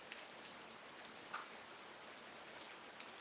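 Steady rain falls in a village on a cloudy day, a soft, even hiss with scattered drop patters throughout and no voices.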